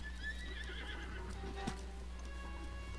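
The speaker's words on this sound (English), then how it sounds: "Silver Bokoblin just came out of nowhere riding on a horse" A horse ridden by a Silver Bokoblin in Zelda: Breath of the Wild whinnies loudly while hooves clip-clop steadily beneath, with no talking over it.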